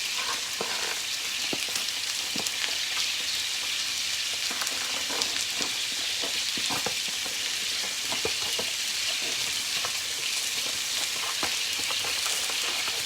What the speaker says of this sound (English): my water is boiling back here